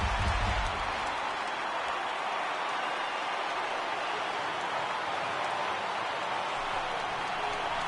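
A large baseball stadium crowd of over 39,000 cheers on its feet in the video game MLB The Show 18, with the Mariners at the Yankees. It makes a steady, dense roar that holds at an even level throughout.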